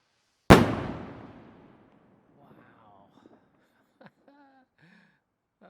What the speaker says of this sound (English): This is going to be a 68 gram Reaper by Vivid. Really good rocket this, really loud.